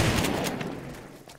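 Shotgun blast in the zombie survival game 7 Days to Die, a loud close burst up front followed by a decaying echo and a few fainter later impacts.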